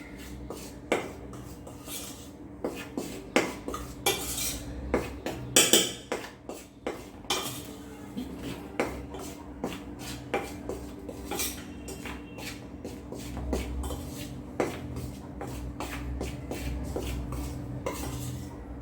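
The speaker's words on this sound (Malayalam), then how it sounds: "പിന്നെ ഇത് മൂതെല്ലാം ചേർത്ത് നമുക്കൊന്ന് ജസ്റ്റ് മിക്സ് ചെയ്ത് കൊടുക്കാം" Rice flour batter with asafoetida being mixed in a bowl, heard as repeated clinks and knocks of a spoon against the bowl in an uneven rhythm, with louder clusters and quieter scraping, close up and with no voices.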